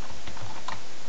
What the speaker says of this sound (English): You're going to type in